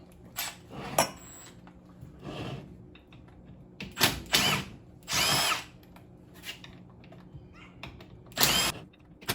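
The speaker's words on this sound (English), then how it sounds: "Got my little Torx wrench. We're going to take this apart and see if we have a gear problem." A small Torx wrench or powered driver works on a Newmar Baystar RV slide-out gear assembly in a shop, giving several short whirring bursts with pauses and metallic clinks between them, fairly close.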